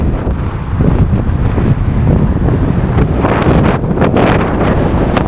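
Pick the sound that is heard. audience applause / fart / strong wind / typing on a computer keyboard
strong wind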